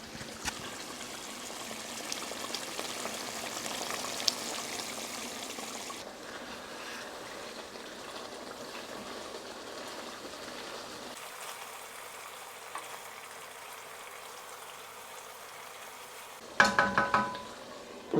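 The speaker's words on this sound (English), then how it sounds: "this curry's been simmering away for a good 5 minutes" A spicy one-pot coriander and green chilli chicken curry simmering in a pot, giving a soft continuous bubbling and sizzling hiss, fairly quiet, with occasional spoon clinks and a brief pause when the lid goes on.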